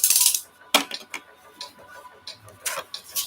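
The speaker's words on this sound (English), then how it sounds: "Sharpen blade, what I do is just basically just cut it, break it off right about here." A dull utility knife blade segment snaps off with a sharp metallic click, followed by a few softer ticks and small clinks of handling, close and brief.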